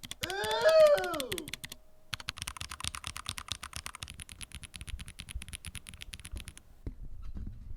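Quick clacky keystrokes ring out close up from a KBDcraft Lilith mechanical keyboard built from Lego, rattling in a dense, uneven patter that stops abruptly, with a brief tonal sound at the start.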